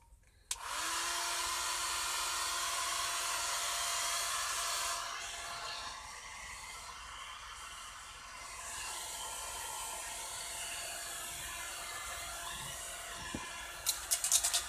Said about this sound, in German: gerade im Übergangsbereich mit einem Föhn.